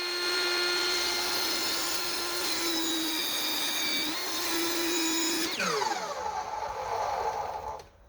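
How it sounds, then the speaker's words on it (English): A power saw slices through a 4-inch by 2-inch piece of wood at an angle, a steady loud whine running for about five seconds before the blade's pitch sweeps down as the cut finishes and it spins to a stop. "And I'm going to cut it at whatever angle that is."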